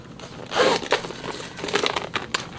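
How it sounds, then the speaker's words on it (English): A Loewe handbag is zipped shut at close range, making a few quick, uneven raspy bursts of zipper and leather crinkle with short pauses between them. "Let me zip it up just to show you guys"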